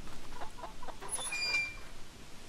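Chickens cluck softly in Hollow Cocoon, a Japanese horror video game, with a few faint, scattered clucks over a quiet game background.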